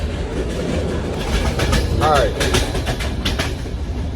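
Long-distance passenger train bound for Istanbul rumbling along the rails with a rhythmic clickety-clack, heard from inside the carriage, with a brief spoken word over the steady noise.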